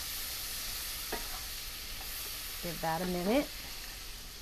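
A medium purple onion or shallot sizzles gently in butter in a pan, a soft steady hiss throughout. A man's brief remark comes over it near the end.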